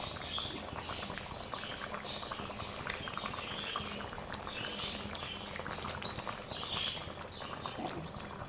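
A pot of egg gravy boils steadily on the stove, a close, continuous bubbling and popping patter that runs unbroken from start to finish at a soft, even level.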